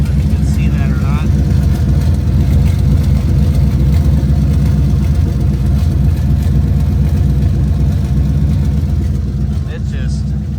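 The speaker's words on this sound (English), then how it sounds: "open exhaust. There's no muffler, just the turbos. It's actually relatively quiet" Twin-turbo Ford Mustang in a race setup idles with open exhaust and no muffler, a loud, steady low rumble throughout, with faint brief voices in the background.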